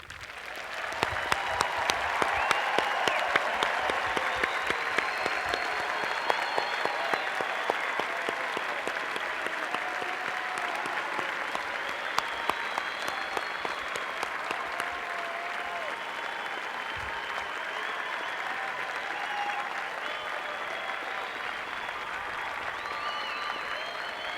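Sustained, dense applause from a large commencement audience of families and friends honoring a graduating Berkeley engineering class, steady and loud throughout with a scatter of crowd noise.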